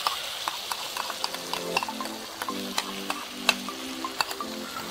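Ground biryani masala paste of ginger, garlic and cinnamon fries and is stirred in a pan for a chicken semiya biryani, giving a steady sizzle broken by repeated scraping spoon strokes and clacks, with no talk.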